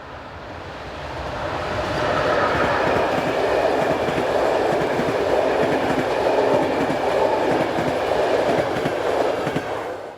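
A Czech Railways Class 380 electric locomotive hauls an intercity train heading northwest, a steady loud rolling roar with a rhythmic clickety-clack of wheels on rail joints that fades slightly at the end.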